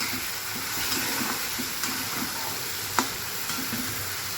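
Bitter gourd fries in a pan with ginger-garlic paste and coriander, giving a continuous near sizzle while a spatula stirs in repeated scraping strokes and a sharp clink sounds midway.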